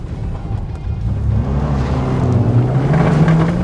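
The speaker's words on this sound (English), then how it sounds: "let's see if we can do a little donut here and then get it to spin out of the donut" A 2023 Subaru WRX with a manual gearbox revs hard while circling in a donut on a dirt race track, its engine note rising and holding steady at close range.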